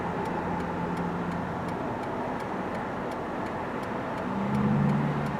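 Steady road traffic hum on Route 3 in Fredericksburg, Virginia, heard from a waiting car, with a regular faint ticking like a turn signal throughout and an engine swelling slightly near the end.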